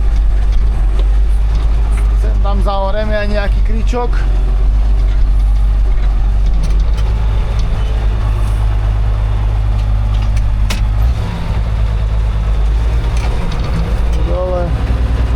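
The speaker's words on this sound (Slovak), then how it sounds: "Ten zvuk je neskutočný a milujem zvuk tohto traktora." A heavy ZTS 16245 Super tractor engine rumbles steadily at low pitch throughout while ploughing, with someone speaking briefly in Slovak over it and occasional mechanical clanks.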